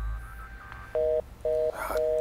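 Telephone dialing tones: three evenly spaced, clear touch-tone beeps play over faint background hiss, with a short burst of higher chirping noise between the second and third beeps.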